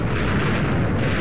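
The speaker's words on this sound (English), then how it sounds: "I really want to see the explosion" A loud, deep explosion rips through a forest, a sustained booming roar with no break across the moment.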